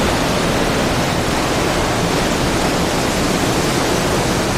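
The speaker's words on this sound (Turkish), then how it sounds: "Bu şelale çok güzel. Akışı güzel, bakışı güzel, yakışı güzel." A waterfall pouring in Sapadere Canyon, a dense, loud, unbroken roar of falling water filling every moment, with no voices over it.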